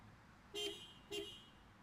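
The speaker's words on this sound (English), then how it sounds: "in case you're curious of what a Honda Civic horn sounds like" Two short honks of a Honda Civic Touring car horn, evenly spaced, fairly faint over a quiet background.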